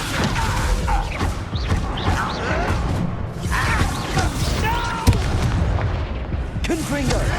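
Confringo fire spells explode in Hogwarts Legacy combat, with repeated booms and crashes scattered through the fight and game voices calling out over the blasts.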